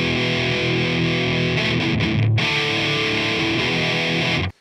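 Heavily distorted electric guitar re-amped through a Yamaha T100 amplifier, with sustained chords that ring loud and thick, a brief dip partway through, then a sudden cutoff into silence at the end.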